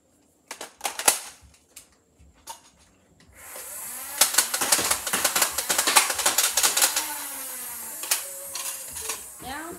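Scattered sharp clacks, then a Dart Zone Spectrum blaster firing Nerf Elite darts in a quick rattling burst over a steady motor whir, close up with no talking.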